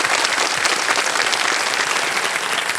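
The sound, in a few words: applause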